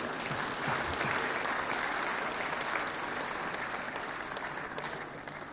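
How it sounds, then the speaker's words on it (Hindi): Sustained applause from the audience at the 68th National Film Awards ceremony as artists receive a Rajat Kamal award, a dense, steady wash of clapping that holds for the whole stretch and eases off slightly toward the end. "पुरस्कार प्राप्त कर रहे कलाकारों के लिए जोरदार तालियां।"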